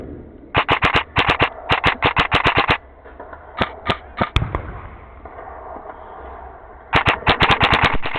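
Rapid bursts of airsoft or mock gunfire during a night opposing-force operation, with several clusters of quick rattling shots that are close and loud, separated by short pauses and a few single shots.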